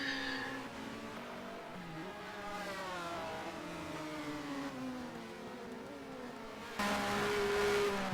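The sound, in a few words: Ford Mondeo V6 touring race car engine, BTCC 1996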